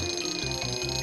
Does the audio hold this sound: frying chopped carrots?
no